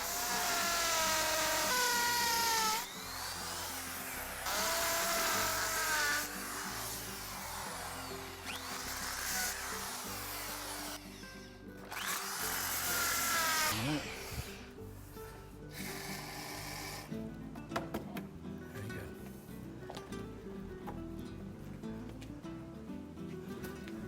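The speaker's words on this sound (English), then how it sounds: "I'm just going to re-drill these holes to give us access again" A power drill bores back through holes in concrete driveway slabs, loud whining bursts starting and stopping several times, with grinding and scraping between runs.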